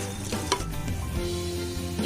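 Sauce for a homemade wheat-flour pizza simmers and bubbles in a pan on the stove. A steady, close sizzling hiss continues with small pops and stirring scrapes.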